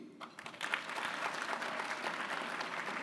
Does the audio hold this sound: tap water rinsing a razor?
no